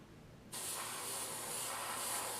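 A steady, close hiss of spray begins abruptly after a short quiet start and continues evenly to the end.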